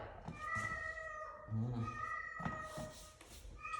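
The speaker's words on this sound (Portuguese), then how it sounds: "Meu gato querendo conversar" A house cat meowing in drawn-out, tonal calls, close and fairly loud, with a voice speaking in between.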